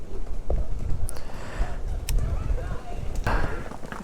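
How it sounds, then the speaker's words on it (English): Several horses pass on a windy byway trail, their hooves producing scattered, uneven clip-clop knocks close by, with wind noise and people talking intermittently. "there's quite a few horses coming through"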